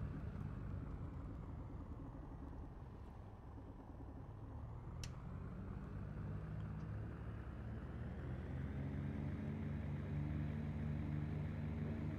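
A light aircraft engine running up in the X-Plane 11 flight simulator on a home cockpit setup, a steady loud droning hum that holds constant and alone throughout.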